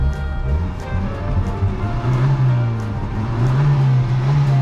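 Fiat Seicento from 1999 with its small petrol engine revs up and holds a buzzing, rising note, climbing twice over several seconds, loud and close with no speech.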